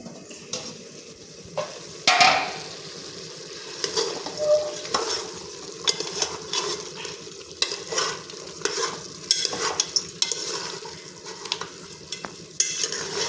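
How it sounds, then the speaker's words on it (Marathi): Mutton stir-fries in hot oil with ginger garlic paste, a continuous close sizzle broken by repeated scraping strokes of a spoon against the pan, with no talk. "आलं लसूण पेस्ट लावल्यानंतर तेलात टाकली का हा आमची तेलाची अशी आड सुटली पाहिजे तोपर्यंत असं परतत राहायचं"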